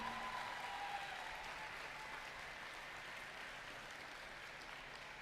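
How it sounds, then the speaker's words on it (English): A large audience at a FIRST robotics district competition in Berrien Springs gives sustained, even applause throughout, steady and dense with no talking over it. "I just want one great big hand for our mentors and coaches"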